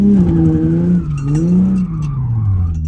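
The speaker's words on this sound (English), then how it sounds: "I'm gonna get the revs high, and I'm just gonna quick spin around" An engine revs hard and holds a sustained, wavering whine as a car spins quickly around, pitch sliding up and down before settling lower. No talk.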